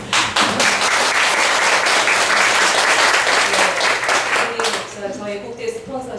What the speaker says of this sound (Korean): 박수 한번 보내드려야 돼요.